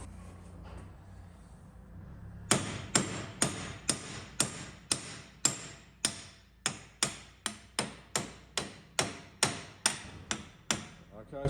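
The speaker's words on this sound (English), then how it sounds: "Let's get a hammer and then tap it in." A hammer taps a seal into a monster truck steering ram: after a quiet start, about seventeen sharp metallic strikes follow in a steady, fairly quick rhythm, close and crisp, each ringing briefly.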